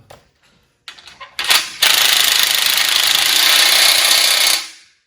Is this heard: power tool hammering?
yes